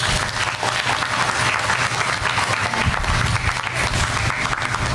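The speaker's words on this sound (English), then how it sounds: "join me in giving all the teachers and your parents a big round of applause" Standing graduates at a grade school commencement ceremony give teachers and parents a big round of applause, a dense, sustained wash of clapping from a large crowd filling the hall.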